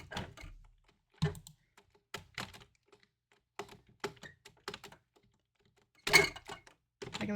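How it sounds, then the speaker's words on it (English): Computer keyboard on an old desk tray being pressed in irregular bursts, separate clacky key hits and short clusters, close and fairly quiet with no voices. "you can kind of hear it when I press down the inputs a bit too hard"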